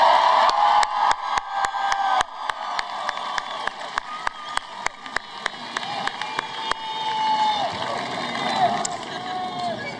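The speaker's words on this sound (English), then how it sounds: "How about another round of applause for our graduates?" Sustained applause from a large crowd honoring graduates at a high school graduation ceremony, steady clapping throughout with sharp periodic clicks and a voice speaking over it toward the end.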